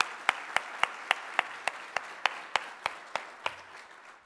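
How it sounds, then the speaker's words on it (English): One sharp hand clap repeats at a steady, slightly slowing beat over a soft bed of wider applause for award recipients at a keynote session, each strike distinct and close and fading toward the end. "Please join me in giving one more round of applause to everyone who was recognized last night."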